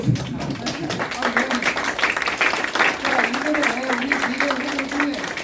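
Applause at a political party youth committee launch, a crowd clapping steadily throughout while someone talks over the clapping.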